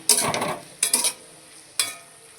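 Capsicum and onion frying with tomato powder, Kashmiri chili powder and turmeric: three distinct bursts of spoon scraping and stirring against the pan over a quiet sizzling background.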